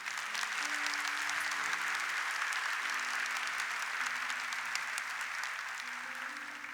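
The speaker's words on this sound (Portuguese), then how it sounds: "Vamos aplaudir essa verdade." A church congregation applauds during a Catholic Mass, broad sustained clapping filling the space evenly, with a faint low organ or keyboard drone held beneath.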